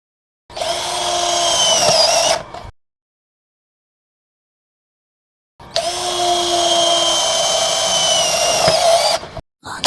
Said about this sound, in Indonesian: 1202 model drilling speed 2.